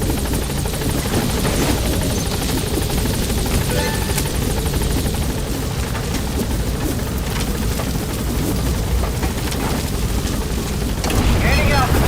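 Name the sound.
helicopter taking off in Metal Gear Solid V video game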